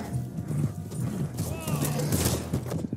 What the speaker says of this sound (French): Il est à cheval, il va vite, il est à cheval.